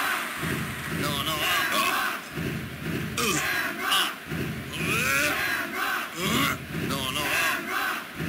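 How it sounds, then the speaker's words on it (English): In the wrestling video game WWF Warzone, an arena crowd roars and cheers in loud continuous waves that swell and dip, with shouted chants rising above the mass of voices. "The crowd is on its feet."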